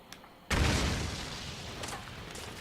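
A sudden deep boom from an explosion in the video game Metal Gear Solid 4 erupts after half a second of quiet, then lingers as a loud rumbling wash of debris and noise.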